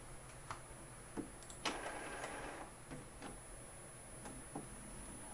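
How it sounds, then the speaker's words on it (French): An Epson printer powers back on and initialises, giving scattered mechanical clicks and ticks with a short whirring motor burst in the middle, quiet and close. "Hop, je rallume l'imprimante."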